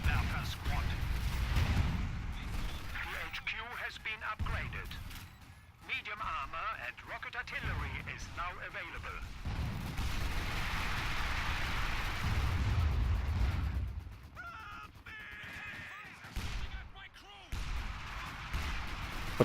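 Machine gun and mortar fire in a World War II strategy game set in the Battle for Caen around Bretteville, a continuous low rumble of distant explosions and bursts of gunfire running under steady talk.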